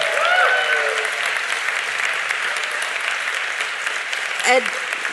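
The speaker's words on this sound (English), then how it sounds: "all of us here should give another clap to her." An audience at a global mayors' climate summit claps steadily for a few seconds, a dense even patter of applause filling the hall.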